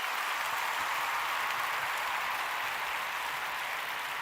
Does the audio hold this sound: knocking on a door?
no